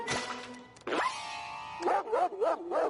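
A cartoon dog yips and barks: a sharp bark, then a sustained whining howl, then a quick run of short yelps, close and clear with no talk.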